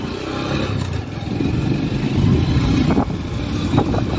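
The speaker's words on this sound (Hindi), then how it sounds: "तो होंडा ट्विस्टर बाइक है, हम इसको चला के आपको दिखाएंगे इसकी प्रॉब्लम" A Honda Twister motorcycle with a fault that keeps it from going past about 20 to 30 km/h, its engine droning steadily and rising slightly as it is throttled, close up with no talk.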